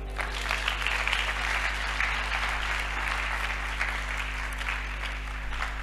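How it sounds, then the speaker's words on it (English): Congregation clapping steadily during a church service, a continuous wash of applause at moderate level with a low steady hum underneath, holding evenly for the whole stretch. "Clap for them."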